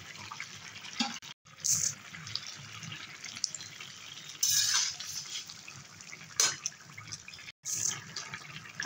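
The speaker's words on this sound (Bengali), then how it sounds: "এবারে মাছটা দিয়ে দেবো" Fried fish dropped into a ridge gourd curry in a pan, heard as scattered clinks and clattering bursts with soft wet stirring between them. The sounds are fairly quiet and close, with a few louder sharp moments.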